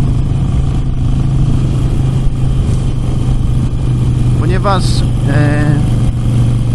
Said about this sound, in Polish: jedzie skuter